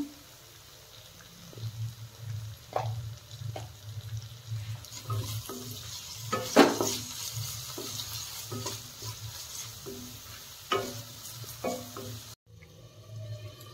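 Capsicum stir-frying in a pan for Bengali-style chowmein after salt is added, with a steady low sizzle and repeated scraping, clattering stirs of a spatula close by.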